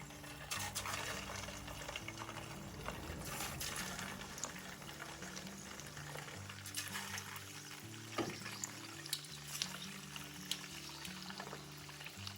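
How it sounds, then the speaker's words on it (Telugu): Rice vadas deep frying in hot oil over a medium flame, giving a steady bubbling, crackling hiss with a few sharper pops, continuous and close throughout, no talking. "ఇప్పుడు మనం తయారు చేసుకున్న వడల్ని ఈ ఆయిల్లో వేసి వేయించుకోవాలి"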